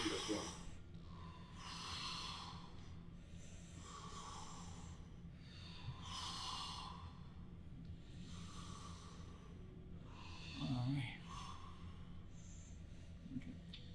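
Slow, steady breaths during a gentle floor exercise, each long airy exhale recurring about every two seconds over a low background hum.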